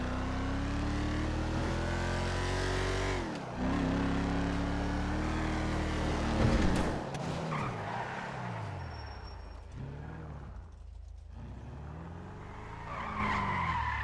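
A Mercedes-AMG G63 in GTA 5 revs loudly and steadily, its engine note climbing in stepped pitches before dropping, with skidding tyre noise and rougher revving bursts later, close and alone without talk.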